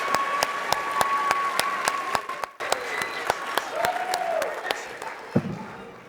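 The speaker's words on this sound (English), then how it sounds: "Can you please clap it out for our beginning band" Steady audience clapping fills a middle school winter band concert hall after the beginning band plays, with sharp individual claps standing out over a dense wash of applause and a few voices rising near the end.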